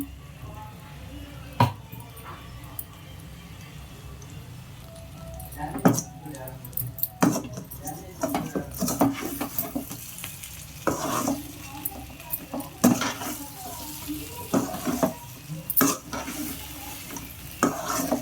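Masala is stirred into brinjal curry frying in a pan with repeated scraping and clinking of a spoon against the metal over a soft, continuous sizzle, close up, in irregular strokes.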